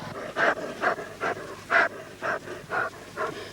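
A German shepherd dog pants in seven rhythmic, breathy bursts, close and clear, with no talking.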